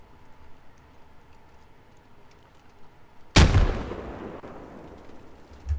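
A frag grenade detonating in a military video game: a quiet ticking lead-in, then one sudden loud boom with a long rumbling decay, no voices.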